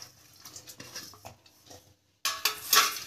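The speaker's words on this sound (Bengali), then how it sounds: "আমরা পেঁয়াজটা ততক্ষণ মেখে নিই।" Chopped onion is mixed by hand in a bowl for egg and bread pakora, making soft, irregular squishing and light clinks, then a brief silence and a louder burst of mixing at the end.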